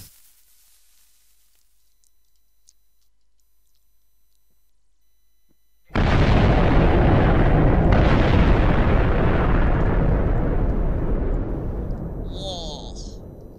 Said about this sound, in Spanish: Esta fue una buena explosión.